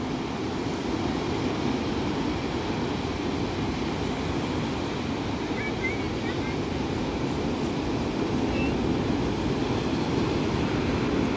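Large ocean waves at Binmaley Beach, a continuous broad roar of surf that holds steady and fairly loud throughout with no clear individual breaks.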